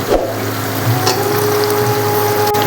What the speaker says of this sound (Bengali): এখন এই ড্রাই পিসটা আমি মশলার মধ্যে দিয়ে দেব।